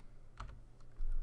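Quiet keystrokes on a computer keyboard come as a few light taps, then a short flurry of clicks, close and faint with no talking.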